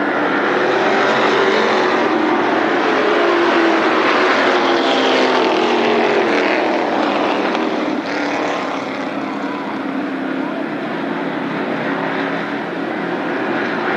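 Late model race cars roar around Berlin Raceway at the green flag, a dense, sustained wall of engine noise that swells and fades slightly as the pack passes, loud and continuous throughout.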